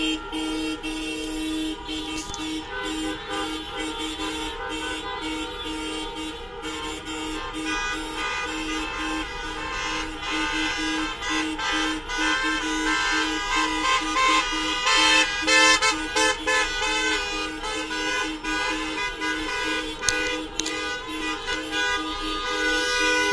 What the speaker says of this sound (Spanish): A toda la vuelta de la Plaza de Grano hay autos tocando bocinas